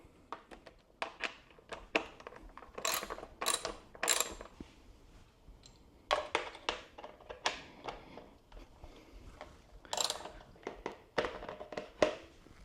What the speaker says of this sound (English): So we've got 2 bolts here that we're going to take out, and this is a number 5 Allen's socket.